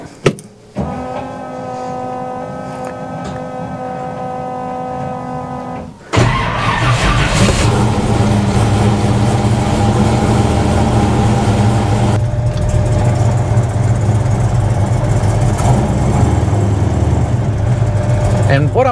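Car fitted with a Holley Sniper EFI system driving along, a steady loud engine drone and road rumble running continuously after a quieter start.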